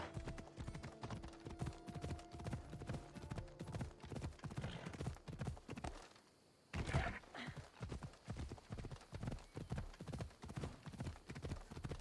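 Horse hooves clip-clopping steadily in Assassin's Creed Odyssey, a fast, even rhythm of close hoofbeats running throughout with one brief pause, a soft whinny, and light ambient background.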